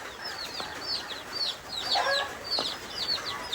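Chickens cluck and chirp over a steady background hiss, several birds calling in short, irregular bursts.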